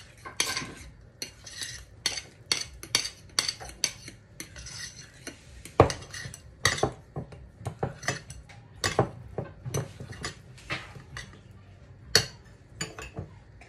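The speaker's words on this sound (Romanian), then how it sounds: "și amestecăm" A spoon or whisk stirs dumpling batter for soup in a bowl, producing quick, irregular clinks and scrapes against the dish, fairly quiet and close, with no talk over it.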